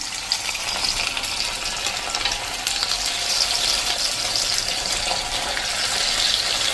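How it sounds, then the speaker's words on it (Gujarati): Bhajiya batter frying in hot oil over a medium flame, a steady bright bubbling sizzle that holds at an even level from start to finish, with no voices. "આ રીતે આપણે 2 મિનિટ એને ફ્રાય કર્યા છે"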